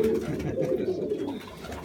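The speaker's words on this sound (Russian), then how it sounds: "Буквально вот недельку начал ворковать" A young pigeon coos up close, a soft, low rolling warble that swells and trails off over a couple of seconds, with no one talking.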